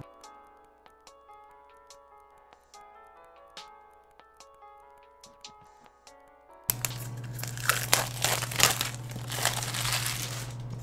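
Cardboard packaging for a Level Lock smart lock being cut open with a knife, close crinkling and tearing with sharp scraping that turns loud and rough after a quieter stretch of light ticking and tapping.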